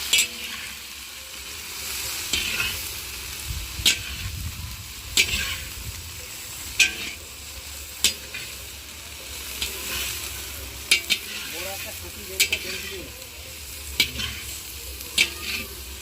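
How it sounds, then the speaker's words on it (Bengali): Vegetables stirred and fried with a little salt in a pan, a steady sizzle broken by sharp, regular scrapes and taps of the spoon against the pan, close and moderately loud with no talking. "সবজিটা গলানোর জন্য অল্প নুন দিয়ে দিচ্ছি।"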